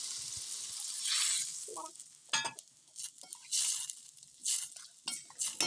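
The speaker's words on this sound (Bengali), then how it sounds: "মশলাগুলো ভালোভাবে কষানো হয়ে গেলে এর মধ্যে থেকে এরকম তেল বেরিয়ে আসবে, তখন আমি তাতে জল দিয়ে দিচ্ছি।" Water splashes into spiced masala frying in oil for an egg curry, with a sizzling hiss, light stirring and utensil clinks in short bursts, close up.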